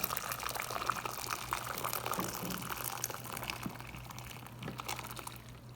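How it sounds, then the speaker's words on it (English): Warm water is poured into a bowl in a faint, steady trickle of splashing and gurgling liquid with soft drips, quiet and fairly close, with no voices. "So we're going to fill a bowl up with our warm water."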